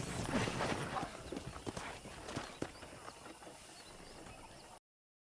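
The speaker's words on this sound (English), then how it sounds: "let's see if you can still ride a horse." Horse hooves clip-clop in a steady walking rhythm while riding in the Red Dead Redemption video game, moderately near over a faint ambient bed, with no talk.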